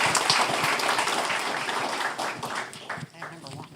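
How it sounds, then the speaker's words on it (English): Audience at a Board of Aldermen meeting applauding award winners, dense clapping that is loud at first and then thins out and fades, with voices mixed in toward the end. "a round of applause for all of the multidiscipline award winners"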